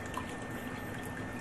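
Subsurface groundwater trickles into a basement sump pit through small holes in the side of the liner, a steady faint wash of running water with no talk.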